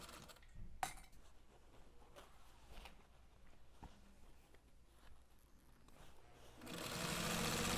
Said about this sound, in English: back stitch over the area that has our handle